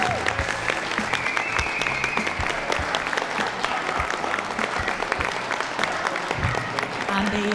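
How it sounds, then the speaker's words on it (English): A crowd at a championship dog show, judging the pastoral group, applauds the judge with warm, sustained clapping that stays dense and even throughout, with a few voices and a brief tone faintly mixed in. "give her a really warm applause to Toni Jackson"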